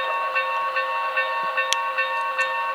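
A Paragon 2 Y6B model steam locomotive's sound system rings its bell in repeated evenly spaced strikes over a steady droning hum, close and fairly loud, with no talking.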